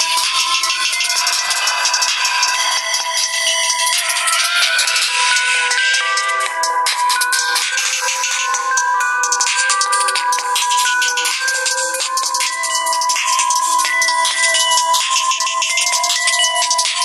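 A ringtone played at full volume through the speaker of a Nokia 7.2 phone, a bright, continuous melodic tune with a tinny, rattly edge and no low end, loud and unbroken.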